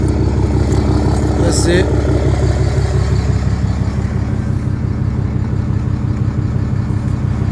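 Honda TRX450 ATV engine idling steadily and loud up close, a throbbing low pulse with no revving, while someone talks briefly over it.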